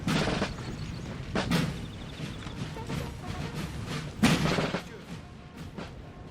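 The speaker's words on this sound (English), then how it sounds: "Get a nice volley off on this French cavalry." Musket volleys in a Napoleon: Total War battle, with two prominent crashing bursts of gunfire over a busy, rumbling battlefield din.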